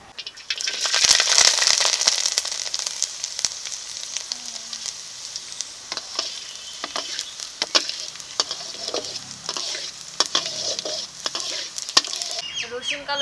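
Garlic and black cumin sizzle steadily in hot mustard oil, a close, bright crackle with scattered sharp pops and occasional stirring clicks from a utensil, with no voices.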